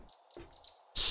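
Short, thin bird chirps in the game 7 Days to Die, a few quick high tweets spaced apart, ending with a sudden loud hiss-like burst.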